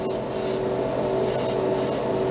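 Airbrush spraying thick Vallejo paint straight from the bottle, a steady continuous hiss with a low compressor hum, the air bursts pulsing on and off in short repeated passes.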